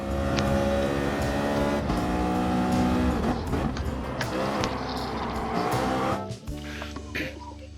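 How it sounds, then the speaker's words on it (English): Race cars from a sim racing video game replay roar steadily at high revs with dense engine harmonics, briefly squealing tires, then the engine note cuts back near the end. "I've got car audio coming through"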